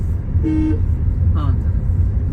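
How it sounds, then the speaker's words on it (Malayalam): Two short horn toots from a Tata Tiago automatic sound over the low hum of its engine, the second slightly higher and briefer. "ഇതുപോലെ ഹോൺ അടിച്ചടിച്ച് കയറി ചെല്ലണം"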